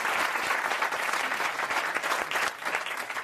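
A studio audience at a French radio comedy show bursts into sustained, lively applause, many hands clapping close together at an even loudness, briefly dipping before carrying on, with no talk over it.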